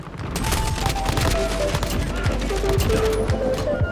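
KAR98K bolt-action rifle fire in Modern Warfare multiplayer, sharp gunshots mixed with rapid surrounding gunfire and battle noise, loud and close with short tonal game cues over the top.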